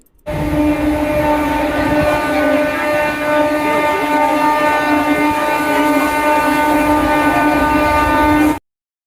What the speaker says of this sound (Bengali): একটু ওয়েট করার পরই ট্রেন এলো এবার উঠলাম